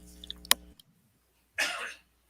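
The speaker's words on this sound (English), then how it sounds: "I had to cough." One harsh, breathy cough bursts out close to the microphone after a brief click and a moment of near silence.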